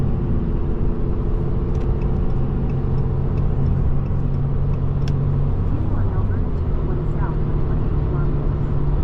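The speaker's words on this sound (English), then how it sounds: "Very heavy traffic." Heavy road traffic heard from inside a Ram 3500 Cummins truck near Calgary, a steady low rumble of engines and tires that persists without pause throughout.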